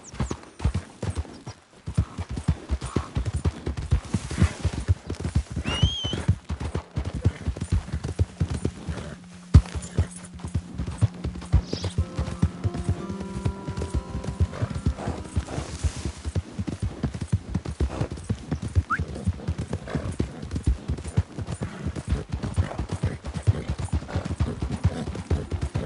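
Horse hooves clip-clop in a steady, close rhythm while being ridden, loud and continuous, with a brief neigh partway through and a few spoken words.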